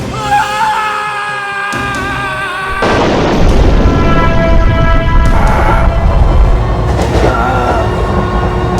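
A train roars past in a tunnel, a loud rumbling, clattering rush with sharp booming knocks, following quieter tonal sounds; no speech.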